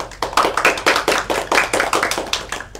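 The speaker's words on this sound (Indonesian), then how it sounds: "beri aplaus untuk Mas Vito" A small classroom group claps for a student during a microteaching lesson, with a steady run of brisk, close hand claps lasting a few seconds.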